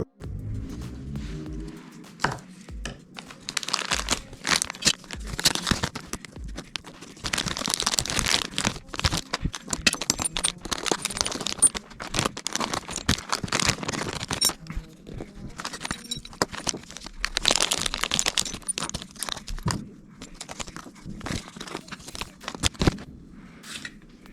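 RC crawler parts, a FTX Mauler, unwrapped from their plastic cover, with repeated close crinkling and rustling of plastic in irregular bursts, punctuated by small knocks and clicks of parts being handled.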